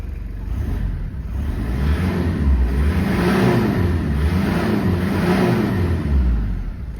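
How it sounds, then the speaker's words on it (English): A 1995 Toyota Land Cruiser KZJ73 with a 1KZ-T 3.0L turbo diesel revs up twice in quick succession, a loud, close, deep diesel rumble that swells and falls back each time, with no talking over it. "And we'll give it a quick rev."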